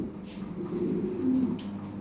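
Lahore and Siraji pigeons coo softly and continuously in low, throaty murmurs, a steady overlapping cooing close by.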